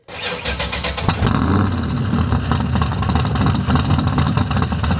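A stroked Windsor 427 cubic inch V8 fires up and settles into a loud, rumbling, lumpy idle, close by and steady throughout.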